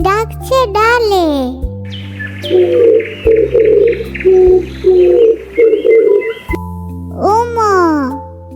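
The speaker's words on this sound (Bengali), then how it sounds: "ঘুঘু পাখি ডাকছে ডালে।" Dove cooing in a rhythmic series of soft repeated coos, set between a voice and sustained musical tones.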